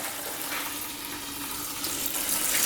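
Dirty, oily water from an ultrasonic cleaner used on motorcycle parts drains into a bucket, a steady close splashing pour that grows slightly louder toward the end, with no talking.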